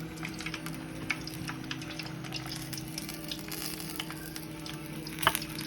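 Vietnamese spring rolls, chả giò, bubble in hot oil with a soft, even sizzle, fairly quiet and constant, with one small pop near the end.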